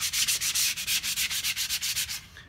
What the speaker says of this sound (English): I start off with coarse grit sandpaper, and then I work up to finer and finer and finer.